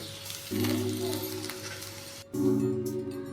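Okra (bhindi) coated in besan frying in a pan, a steady close sizzle with a brief dip near the middle before the crackle swells again, no voices.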